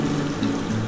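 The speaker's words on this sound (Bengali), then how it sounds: "আমি এখন সামান্য অল্প একটু জল দিচ্ছি" Hot water is poured into a pan of mutton curry, heard as a short, steady, close pouring and splashing rush with no talking over it.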